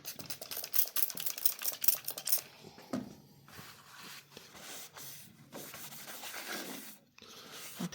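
Linseed oil with a little turpentine and drier being rubbed by hand onto a piece of stabilized wood, quick scrubbing strokes at first, then slower, softer rubbing, close and fairly quiet.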